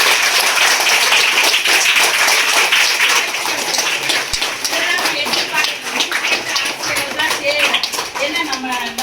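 An audience claps loudly and steadily for the class teacher at a seed festival, a dense wash of applause that fills the whole stretch and thins slightly toward the end.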